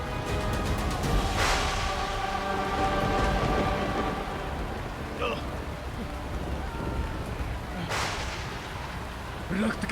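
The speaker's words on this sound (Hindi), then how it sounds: "रक्त की वर्षा, ये तो अत्यंत अशुभ संकेत है।" Heavy rain pours steadily with loud thunder claps and cracks rolling through the downpour, treated as an ominous rain of blood.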